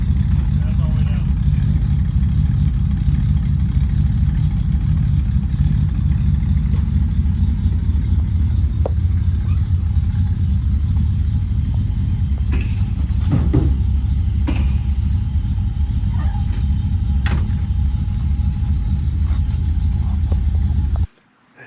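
A 1960 Buick on its first drive after restoration, engine note a steady low rumble throughout, close and continuous with road noise, a few faint knocks over the top, cutting off abruptly at the end.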